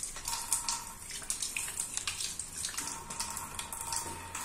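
Water runs steadily from a smart toilet's tap with soft splashing and shifting as hands are washed under the stream.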